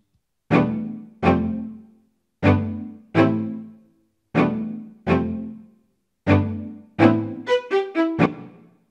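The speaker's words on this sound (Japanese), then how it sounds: "ストリングカルテットという音源に入れています。" Ableton Live 11's String Quartet instrument plays a MIDI phrase: a series of short, bowed-string chords with sharp attacks and quick decays in an uneven rhythm, ending in a rapid run of higher notes, heard alone and up close.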